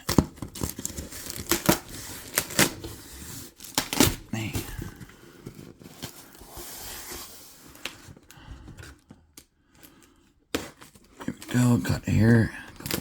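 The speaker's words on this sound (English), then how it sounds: "Go, cut here, a couple more cuts." A cardboard box being sliced open with sharp cutting strokes, rendered as repeated tearing and crinkling bursts under ongoing talk, with a short pause before a final flurry of cuts.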